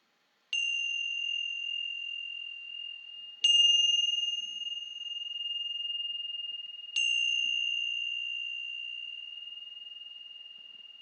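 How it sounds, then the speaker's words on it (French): A meditation bell rings three times at even intervals, each strike a clear, pure ding that rings on and slowly fades in a quiet room with no talking. "Dès que la cloche sera terminée, le son de la cloche sera terminé pour nous."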